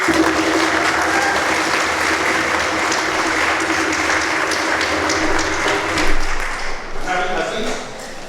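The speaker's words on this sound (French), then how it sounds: "Un applaudissement pour Cécilia." A church congregation gives a steady wash of applause during a Mass with confirmations, sustained for several seconds before tapering off at the end.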